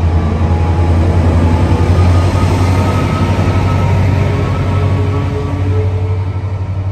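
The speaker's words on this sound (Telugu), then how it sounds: "ఇది ఫాస్ట్ ట్రైన్ అన్నమాట" A fast train runs at a railway station in Israel, its deep steady rumble and rolling hum loud and close for several seconds, easing slightly toward the end, with no talking.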